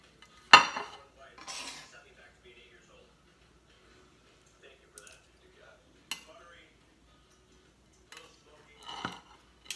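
Utensils and dishes clatter while stir-fried rice noodles are plated. A few sharp clinks and scrapes are spread out over near silence.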